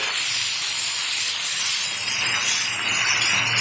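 Sea bele fish sizzle in hot oil with a steady, dense, hissing roar, close and unbroken throughout.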